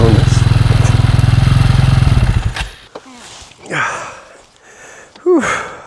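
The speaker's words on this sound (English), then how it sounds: "That engine's running hot, my friends." An off-road Jeep engine revs loud and close at a steady, buzzing pitch for about two seconds and then cuts out, followed by scattered voices and breathing in muddy creek country.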